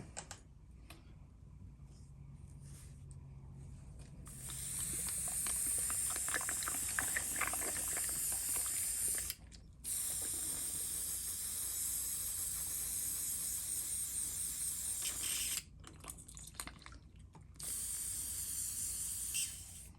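An airbrush spray gun is flushed clean in bursts of harsh, close hiss, starting after a few quiet seconds and broken by short pauses, with soft clicks and handling noises between sprays.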